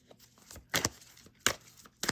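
A deck of tarot cards is shuffled and keeps jamming: quiet papery riffles broken by several sharp, crisp snaps and slaps of cards catching, close and fairly soft, with no talking.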